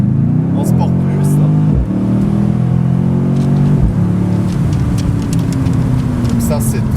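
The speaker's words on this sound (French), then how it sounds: "Dernier bruit du 4 litres en Sport Plus" A 510-horsepower Mercedes C63 S AMG convertible with a 4-litre engine in Sport Plus mode revs loudly and close, climbing through repeated rises and drops in pitch with a steady roaring growl.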